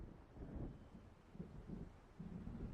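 Low rumbling thunder of an approaching storm in the game Alan Wake, a steady deep roll with faint swells, close and sustained with a hint of wind, no voices.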